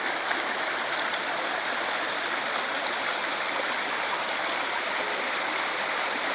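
A river flows around an island below waterfalls, a steady broadband rush of moving water that runs unchanged and alone throughout.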